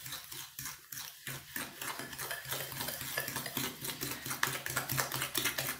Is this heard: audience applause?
no